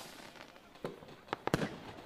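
Fireworks bangs in a Bing Bunny cartoon, a few quick sharp pops bunched near the end, fairly faint and distant over a quiet background.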